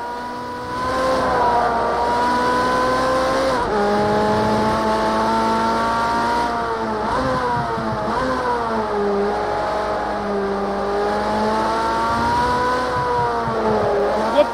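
A Ferrari race car engine in Project Cars 2 screams at high revs, its pitch climbing and dropping with gear changes in a loud, steady drone lasting about fifteen seconds, with no speech.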